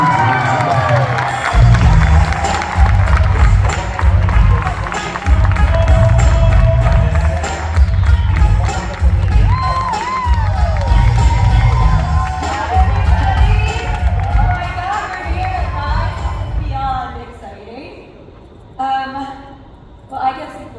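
An audience cheers and claps loudly and continuously, with shouts over a dense crowd roar that fades near the end.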